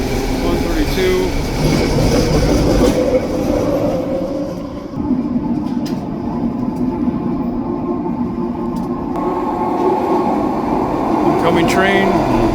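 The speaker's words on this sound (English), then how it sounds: "Incoming train, westbound" A westbound train passing close by, a steady loud rumble and clatter of rolling cars that continues throughout, with someone talking over it.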